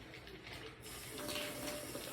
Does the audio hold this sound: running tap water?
yes